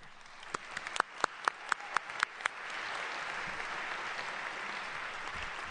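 Short burst of audience clapping at a university engineering senior recognition ceremony: several loud, separate claps roughly evenly spaced, then a steady wash of many hands applauding in a large room.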